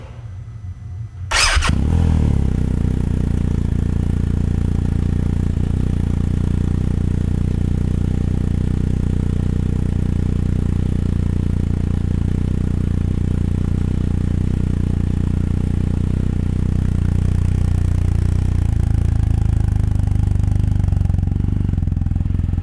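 A 2020 BMW R 1250 RS boxer motorcycle engine starts with a burst and then runs at a steady, loud, throbbing idle close by for the rest of the clip.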